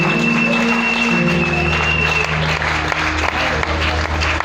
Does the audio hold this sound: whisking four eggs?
no